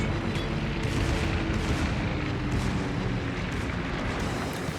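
Lexington aircraft bombing a Tirpitz battleship in World of Warships, a dense continuous rumble of explosions and booming fire with repeated bursts throughout.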